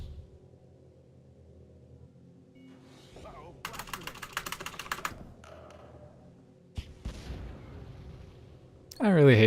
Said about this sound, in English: I am mashing the button to shoot